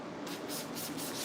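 Water sprayed from a spray bottle to wet a man's hair during a haircut, a rapid series of short hissing spritzes close to the microphone.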